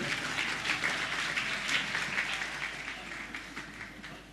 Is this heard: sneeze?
no